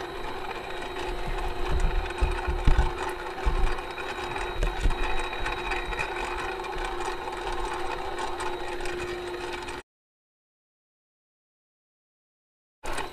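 A stand mixer motor beating sugar syrup for fondant whirs steadily at close range with a constant hum and rattling texture, then cuts off abruptly, leaving silence.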